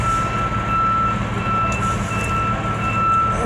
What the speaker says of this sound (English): there's a big truck over here backing up, and its backup alarm is going on.